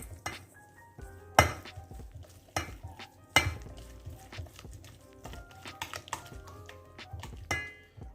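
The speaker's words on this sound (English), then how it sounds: "All right, you guys, let's mix it up." Crab cake mixture being stirred with parsley, lemon pepper and Old Bay seasoning in a bowl: irregular clinks and scrapes of a utensil against the dish, close and fairly quiet, with a few sharper knocks.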